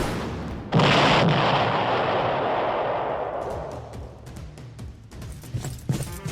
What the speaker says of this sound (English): Is that a rocket launcher?